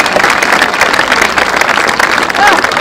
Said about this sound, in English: So let's give a big warm applause to Lane Erickson.